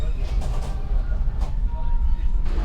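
The Progo economy train pulling into Purwokerto station, a low rumbling roar with rolling mechanical rattle, steady and fairly close, heard from on board with faint hiss above.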